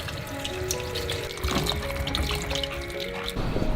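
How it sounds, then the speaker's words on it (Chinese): Tap water runs steadily as a handful of okra is rinsed in a sink, a continuous splashing wash with small shifts in flow and no talking. "我们来洗一把秋葵。"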